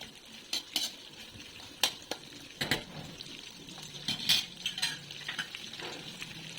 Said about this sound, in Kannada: ಆನಿಯನ್, ಉಳ್ಳಾಗಡ್ಡಿ ಇದನ್ನು ಬೆರೆಸ್ಕೊಂಡು ಹುರ್ಕೋಬೇಕು.